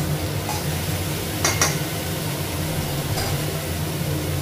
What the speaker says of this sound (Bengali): ঢেঁড়সটা ভাজা হয়ে গেলে শাকটা ভাজা করবো